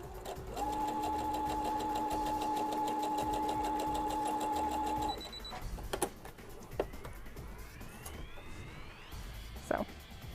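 A sewing machine stitching pintucks in medium weight fabric with a 5-groove foot, a steady rapid mechanical whirring hum for about four seconds, then stopping, followed by a few clicks and light handling noises.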